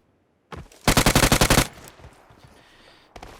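Automatic gunfire in a video game rips out as a loud, rapid burst of about ten shots, followed by a low, scattered rumble and one more short burst at the end.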